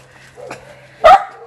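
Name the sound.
dog barking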